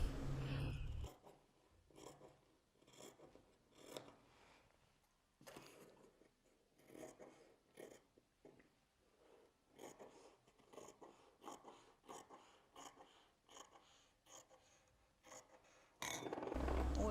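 Scissors snipping through very thin fabric pieces, a quiet run of soft rhythmic cuts and rustles, close and faint, with louder handling noise at start and end.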